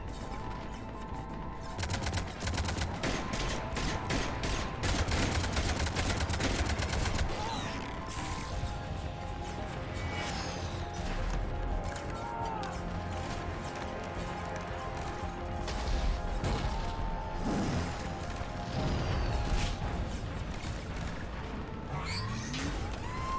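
Rapid bursts of cannon gunfire and mechanical clatter in Mass Effect 3 pound on and off over a dense background of explosions and machinery, loud and continuous.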